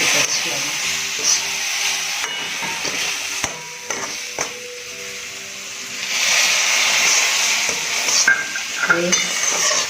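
Milk poured into a hot pan for savory sev modak, with steady sizzling and the clink of a spoon stirring against the pan, and a voice briefly heard.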